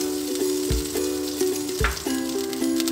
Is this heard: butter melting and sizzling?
yes